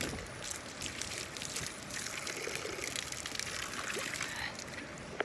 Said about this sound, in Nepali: हमेसा पानी मात्र बगे बगे गर्छ यहाँको